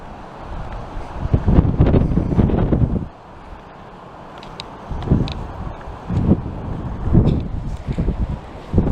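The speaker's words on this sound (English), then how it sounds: "Listen to that wind." Wind gusts through a canyon campsite, buffeting the microphone in loud rumbling bursts that rise and fade, with quieter stretches in between.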